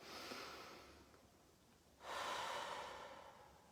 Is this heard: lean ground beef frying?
no